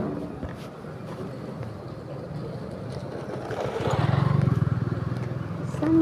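Motorbikes, including scooters, pass by on a street, heard as a steady, moderately loud engine drone that swells and throbs as one bike passes close, with a voice speaking briefly.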